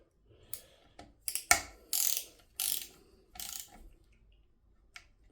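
A torque wrench tightening the lower timing chain bolts on an engine, giving a series of sharp ratcheting clicks in short bursts, close and fairly quiet, with no talk.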